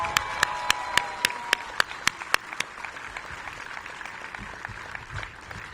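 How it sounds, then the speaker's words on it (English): A small crowd at the grand opening of The Fields at RFK Campus in Washington, DC applauds two DC United players: a few distinct, fairly distant claps in a steady rhythm that thin out and fade over several seconds. "Let's give them a round of applause."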